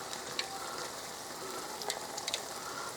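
Beer-batter onion rings frying in hot oil give off a steady close sizzle, a dense bubbling hiss with a few sharper pops and crackles rising above it.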